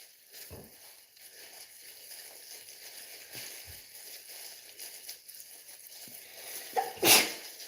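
A single loud, sharp sneeze bursts out near the end, after a stretch of quiet room noise and faint shuffling.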